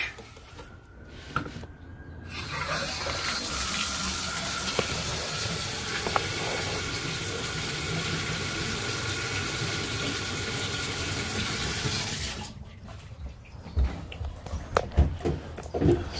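Water hisses and streams steadily from a leaking bathtub tub shoe for about twelve seconds, close and constant, then cuts off to quieter handling sounds.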